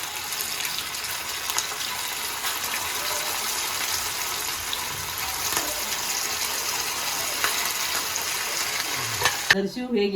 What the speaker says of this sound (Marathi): साबुदाणे वडे टाकत आहे तेलात